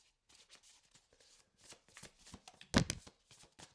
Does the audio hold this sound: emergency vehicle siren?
no